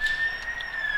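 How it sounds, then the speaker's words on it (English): An ambulance siren passes somewhere in Christchurch, a steady, fairly faint high wail that holds a single tone through a short moment, with no one talking over it. "Look, another ambulance is going past."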